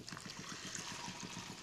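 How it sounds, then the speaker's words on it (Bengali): About a litre of water poured into rice being fried for mutton biryani, a faint, steady trickling splash that runs unbroken throughout. "1 লিটার পরিমাণ পানি দিয়ে দেব।"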